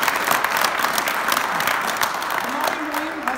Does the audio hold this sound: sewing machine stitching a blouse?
no